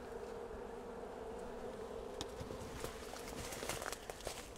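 Honeybees buzz steadily inside a hollow pine tree being cut open, a dense close hum with occasional light taps and crinkles on top and no speech.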